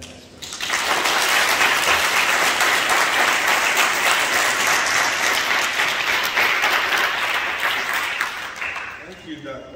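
Audience applause welcoming Congressman Adriano Espaillat at a school health program event, a dense sustained ovation from a crowd that swells quickly, holds steady for several seconds, then tapers off near the end.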